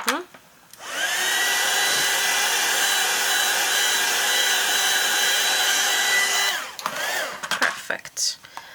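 A hair dryer runs close and loud for about six seconds to dry watercolor paint on a card, a steady whirring roar that cuts off abruptly, followed by brief handling clatter.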